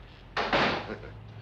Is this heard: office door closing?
yes